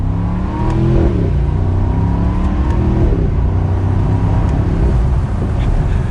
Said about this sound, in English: we'll listen to that exhaust